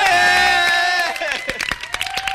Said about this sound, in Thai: ขอเสียงปรบมือต้อนรับจำเลยที่หนึ่งและจำเลยที่สอง